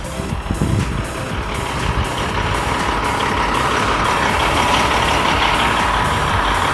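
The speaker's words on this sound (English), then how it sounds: "I was not expecting a truck quite this big." A large car-transport truck arrives with a loud, continuous engine rumble, while repeated beeps tick away throughout.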